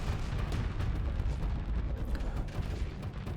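Ship weapons in the space combat game Starsector firing generic shells, a dense continuous roll of heavy booming impacts and blasts, loud and sustained with no talk.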